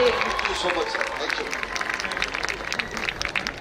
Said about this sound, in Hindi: जोरदार तालियां गुरदास मान साहब के लिए।